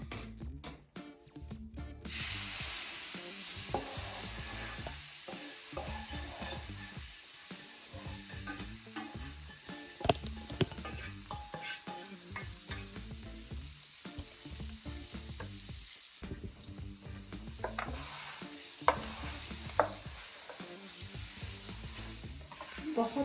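Hot flour poured over mixed nuts in a pan to roast them while making flaxseed ladoos (alsi ki pinni), giving a steady soft sizzling and frying hiss with light stirring scrapes throughout, no voices.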